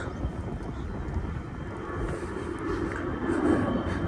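A steady low roar of an airplane passing overhead near Don Mueang airport in Bangkok, broad rumble swelling slightly toward the end, with wind noise on the microphone.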